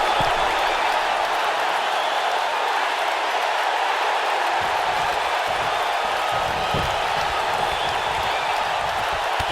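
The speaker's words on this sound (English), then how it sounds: "We've got a raucous crowd here in Philadelphia tonight" A raucous wrestling crowd in a Philadelphia arena roars and cheers steadily throughout a Falls Count Anywhere match, a dense, loud wash of crowd noise with no pauses.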